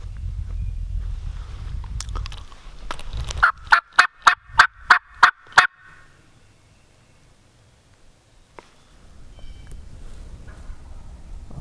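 A wild turkey in the woods gobbles in a rapid burst of about eight sharp rattling notes, clear and moderately distant, with wind and quiet rustling outdoors before and after.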